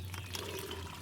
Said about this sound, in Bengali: এবার আমি জলটা ছেঁকে নেব